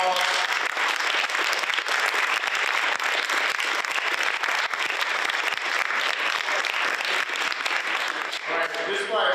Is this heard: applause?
yes